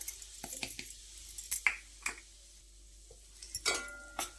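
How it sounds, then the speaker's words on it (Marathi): Semolina is roasted with ghee in a wok over low heat. A spoon scrapes and stirs in short, irregular strokes, with faint sizzling between them at close range. "तो रवा बघा अगदी लो वर चांगला भाजून घ्यायचा आहे"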